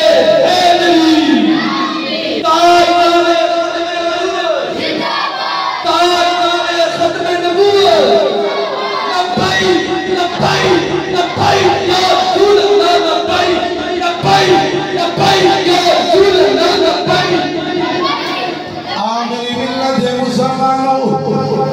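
A crowd at a Milad-e-Mustafa mehfil chants religious slogans (naara takbeer, naara risalat, naara haideri) in loud, rhythmic call-and-response waves, voices roaring together over a leader's calls.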